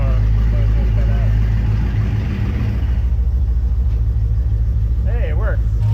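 Hellcat-swapped 1969 Dodge Charger V8 idling nearby with its exhaust cutouts closed, a steady deep rumble throughout while people talk over it.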